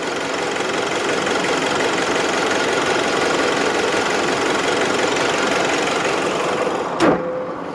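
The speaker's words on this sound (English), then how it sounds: "Show you a little bit about the engine." Nissan Pathfinder dCi diesel engine idling with the bonnet open, a steady close rumble with a faint knock, ending in a sharp clunk near the end.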